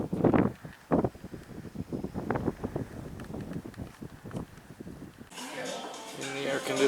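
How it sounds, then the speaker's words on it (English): Desert wind gusts outdoors near sand dunes in July heat, buffeting the microphone with rough, uneven rumbling while people talk over it, and the gusting grows stronger toward the end. "It's windy, so it's very nice."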